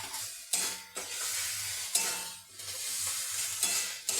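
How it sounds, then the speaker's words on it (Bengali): Vegetables seasoned with turmeric and salt fry in a pan, a steady close sizzle broken by several scraping stirs of a spatula against the metal, with no one speaking. "এরপর এটাকে ভালো করে ভেজে নেব"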